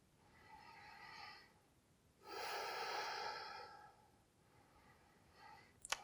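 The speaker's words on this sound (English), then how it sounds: "Breathe deeply." Slow deep breaths during a yoga flow, a soft drawn-out inhale followed by a longer, fuller exhale, close and quiet with no talking.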